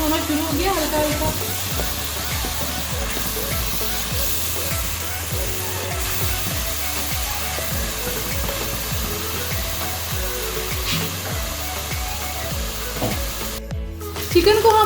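Boneless chicken sizzles over low heat in a handi with onion and garlic paste, a steady close frying hiss broken by repeated scraping taps of a spoon stirring, with a voice talking over it.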